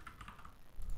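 Brief burst of light, rapid typing on a computer keyboard, soft and close, a few quick clicks with no talk.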